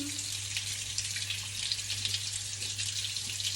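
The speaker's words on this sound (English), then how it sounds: "Time to wash our hands, Santino" A kitchen tap runs steadily for hand washing, a close, constant broadband water rush with a low electrical hum underneath and no talk.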